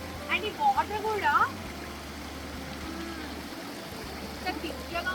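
A mini waterfall near Hyderabad gives a soft, steady rush of flowing water, fairly faint and constant, with voices talking over it.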